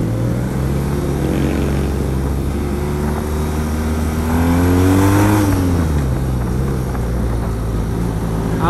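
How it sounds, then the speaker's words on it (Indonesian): A BMW R NineT Urban GS motorcycle's boxer engine runs steadily with a deep, throbbing low rumble, briefly rising in pitch as it revs, then settling back down. "Ala mesin boxer khas BMW."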